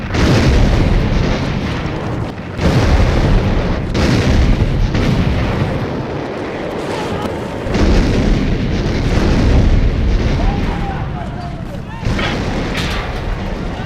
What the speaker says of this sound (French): l'artillerie navale alliée prend le relais afin de pulvériser le mur de l'Atlantique